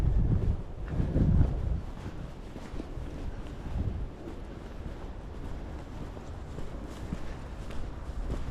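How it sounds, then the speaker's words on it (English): Wind moves through trees at Panola Mountain State Park in Georgia, a continuous rushing rumble that swells early on and then settles into a steady, moderate hiss with faint scuffs. "Those sounds are trees moving in the wind"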